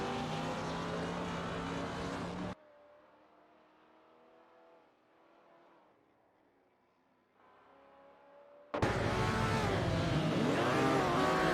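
Vintage supercars in an AI race in a racing simulator game: loud engine whine and revving, then a quieter distant stretch before the close roar returns, with no talk.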